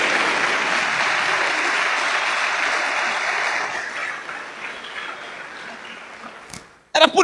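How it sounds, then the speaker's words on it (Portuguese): A church congregation applauds in a sustained, dense round of clapping that gradually fades, followed by a sudden loud close thump and noise at the end. "Você pode aplaudir ao Senhor por isso"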